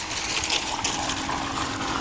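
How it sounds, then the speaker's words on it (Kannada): Borewell water gushes steadily into a farm sump used to irrigate a mulberry silk farm. The rushing flow is close, even and continuous, with no voices. "ನೀರು ಆ ಕಡೆ ಬರ್ತಾ ಇರೋದು ಬರ್ನೀರು."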